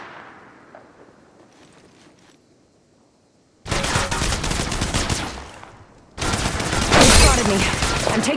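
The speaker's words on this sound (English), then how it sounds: "They spotted me. I'm taking shots." After a quiet lull, loud bursts of rapid gunfire from Apex Legends Mobile erupt in two sustained volleys, close and harsh, with a voice heard faintly in the quieter opening.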